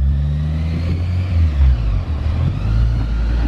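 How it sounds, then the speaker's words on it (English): A supercharged car running a Skunk2 header, factory catalytic converter and a quiet stealth exhaust drives along a street, a close, deep low rumble that swells and eases as the engine works, with no talking. "So let's get a little bit of a sound clip, go up down the street."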